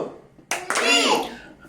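A few claps for a little girl's fourth birthday at a simple home celebration, a short burst of hand claps mixed with a voice and other people talking.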